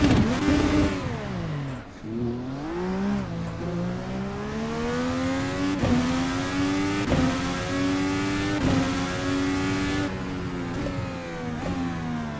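A racing car in Assetto Corsa on the Toronto Street Circuit revs hard and steadily, its engine pitch climbing and dropping through repeated gear changes, loud and continuous with no talk.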